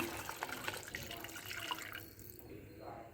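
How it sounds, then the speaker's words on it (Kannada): Water pours into a pan of fried spices while tili saru, a thin South Indian rasam, is cooked, making a close, continuous splashing flow that softens toward the end. "ಇಷ್ಟು ಫ್ರೈ ಮಾಡ್ಕೊಂಡು ಆದಮೇಲೆ ನಾನು ನೀರನ್ನ ಹಾಕ್ತಾಯಿದ್ದೀನಿ"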